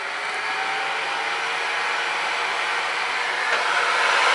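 A hot air rework station blows steadily on a chip on a laptop board, a continuous close airy whoosh with no pauses.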